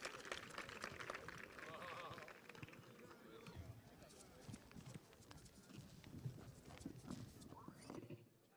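Horse trotting at a Dutch breeding show, hooves clip-clopping in a steady quick rhythm across the whole stretch, mixed with crowd noise, an occasional whinny and a voice talking over it.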